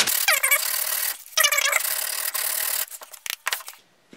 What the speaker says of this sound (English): I'm sanding these edges just to smooth them up some.